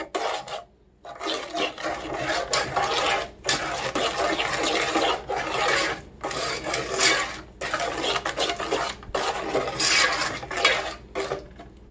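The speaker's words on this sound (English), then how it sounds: "And now to stir that in." A spoon stirs an egg into cornmeal cookie dough in a bowl, giving loud, close scraping and rubbing strokes that repeat in a steady rhythm with short pauses between them, and no talking.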